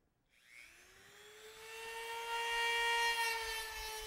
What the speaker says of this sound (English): I'm just going to begin with a Dremel with this sandpaper roll here by taking that material away.